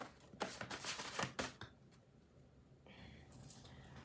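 Tarot cards shuffled in quick riffling bursts for about a second and a half, crisp and close, followed by quieter rustling and a faint hiss.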